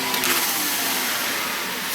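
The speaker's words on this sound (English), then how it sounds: "What we'll do just quickly with a hoover, just get rid of any extra dust" A hoover vacuums leftover dust off the side of an illuminated sign letter, giving a steady, close, loud motor whine with a broad airy hiss that holds evenly throughout.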